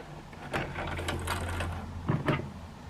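A sewing machine runs a short burst of stitches on a fabric table runner, giving a steady mechanical hum with light clicking and ratcheting, close and moderately loud, with no talking.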